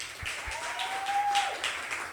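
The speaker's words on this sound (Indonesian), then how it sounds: "Boleh saya minta tepuk tangan ya?" Audience applause at a talk-show product launch event: scattered, fairly light clapping from a crowd in a hall, steady for about two seconds at moderate volume.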